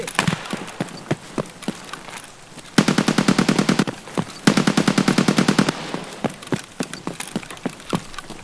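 Two sustained bursts of rapid automatic gunfire in Escape from Tarkov, each lasting a few seconds, loud and close, with scattered single shots and footstep-like impacts before, between and after them.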